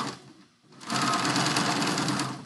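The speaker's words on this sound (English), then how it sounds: "I'm going to stitch right down that line." A sewing machine stitching quilt squares together, a quiet start and then a sudden steady mechanical whir of rapid stitching up close, with no voices.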